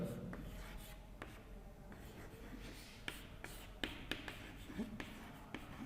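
Writing on a board during a lecture, faint scratchy strokes and occasional sharper taps of the writing tool, fairly quiet against room tone with no speech.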